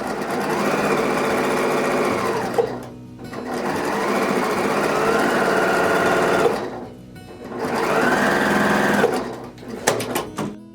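A sewing machine stitches quilt block seams in three long continuous runs, each steady whirring burst broken by brief pauses, close and loud, ending with a few short stuttering stitches.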